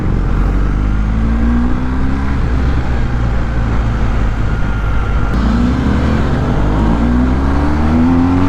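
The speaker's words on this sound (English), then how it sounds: "This bike is fun to ride." A BMW R 1250 GS motorcycle under way, its engine droning loudly and steadily throughout with rising pitch sweeps as it accelerates through gears, mixed with heavy wind rush, no speech.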